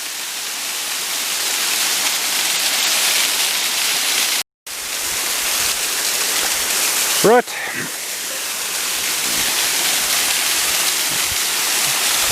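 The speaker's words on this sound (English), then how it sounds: "You must see this waterfall" Waterfall pouring down a rock face where baboons roam, a steady broadband rush of falling water filling the whole clip, broken by a brief dropout near the middle, with a short spoken word and a faint bird-like chirp over it.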